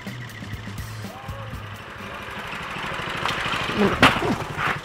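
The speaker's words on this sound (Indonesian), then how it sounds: "Mendengar deru mesin giling setiap hari merupakan hal yang lumrah di hampir seluruh Kabupaten Banyuwangi" An engine-driven mill grinding soybeans for tofu-making in Banyuwangi, Indonesia, drones steadily in the background, with a low rumble under a narrating voice and some clattering near the end.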